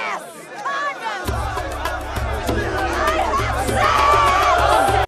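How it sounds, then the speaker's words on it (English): A crowd of men in a street scene from a movie jeers and shouts in overlapping voices, a steady loud clamor with a low rumbling bed throughout and individual shouts rising above it. "Men surround her, booing and jeering, and she starts screaming at them."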